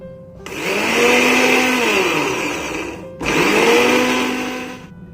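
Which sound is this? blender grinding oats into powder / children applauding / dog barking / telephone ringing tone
blender grinding oats into powder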